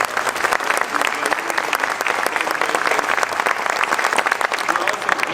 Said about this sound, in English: I'm honored to be here, and I am joined by some pretty dynamic county commissioners who are here. Please give them a round of applause.